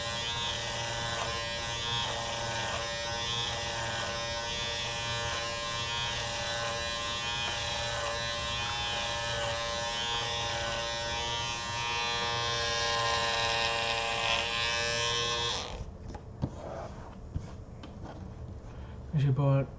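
Electric shaver shaving a rug, giving a steady close buzzing hum that runs for about fifteen seconds before cutting off, followed by light rubbing and handling noises, with a voice heard during the clip.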